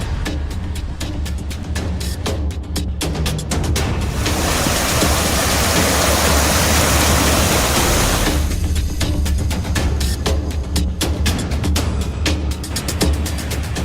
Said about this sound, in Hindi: नदियों का शोर डरा रहा है।